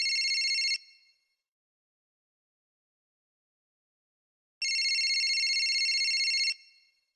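A phone rings twice in electronic trilling bursts, a short one and then a longer one, separated by several seconds of silence.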